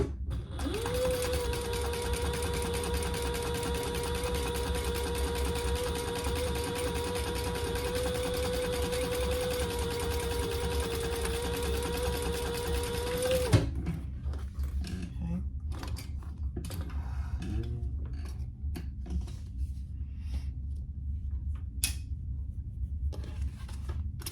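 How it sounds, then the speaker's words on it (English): A sewing machine runs steadily for about thirteen seconds, top stitching along the bottom edge of a leather crossbody wallet, then stops abruptly, leaving soft handling clicks and rustles. "Now we're gonna just sew along the bottom, top stitch along the bottom"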